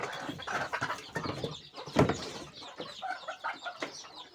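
Native village hens cluck while they feed in a backyard. Intermittent nearby clucks and short calls come in irregular bursts, with one louder call midway and no talking.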